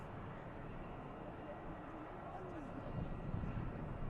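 Distant airliner engine roaring steadily as the aircraft banks around the airfield at Manchester Airport, a broad continuous rumble that swells slightly toward the end under faint talk.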